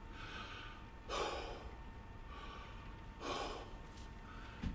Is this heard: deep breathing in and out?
yes